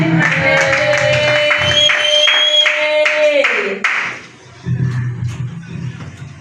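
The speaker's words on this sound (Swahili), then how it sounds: "Karibu, leta makofi juu ya Yesu" A church congregation claps along while a voice sings or speaks over them, steady rhythmic hand claps that stop abruptly partway through, followed by a brief lull and a softer murmur of the crowd.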